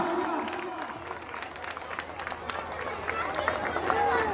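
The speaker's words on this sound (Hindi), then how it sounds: "जोरदार तालियां प्रधान जी के लिए, जोरदार तालियां" Crowd clapping and cheering at a village gathering honouring the committee head, a steady wash of applause with babble throughout, moderately loud and sustained.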